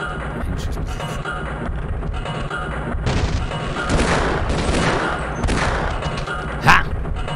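Gunfire from the 1998 video game Half-Life, a sustained volley of loud broadband shots over dense game noise with a sharp, louder crack near the end.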